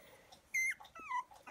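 Young three-week-old puppies give a few short high whimpers and whines with a small growling edge, close and fairly quiet, coming in brief bursts with gaps between.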